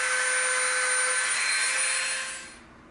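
Rotary tool bit cutting a rivet mark into EVA foam, a steady high whine held close and loud before it spins down and fades at the end.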